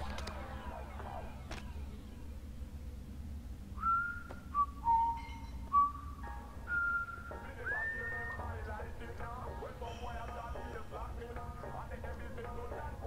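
Whistling in the video game Far Cry 3, a short tuneful melody of sliding notes heard faintly over a steady low rumble of in-game ambience, with a soft voice at times.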